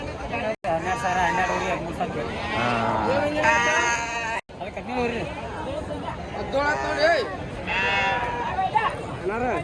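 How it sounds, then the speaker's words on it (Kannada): Sheep and lambs bleat repeatedly at a busy weekly sheep market in Kerur, with several calls rising over a dense crowd hubbub and nearby voices talking. "ದೋಸ್ತರ ಇವು ಚೊಕ್ಕ ಜವಾರಿ ಮರಿ ನೋಡ್ರಿ"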